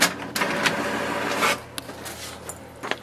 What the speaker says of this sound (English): prints a page.